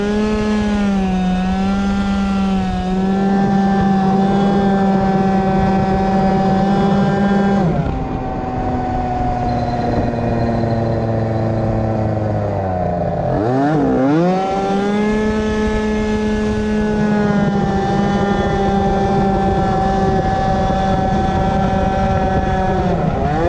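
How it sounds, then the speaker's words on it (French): An air-cooled 70cc moped engine with a Most Wicked long transmission revs loudly and close up, holding a high buzzing drone, dipping into a falling and rising swoop midway before climbing back to a sustained, rasping whine. "Pour un moteur air, franchement ça respire."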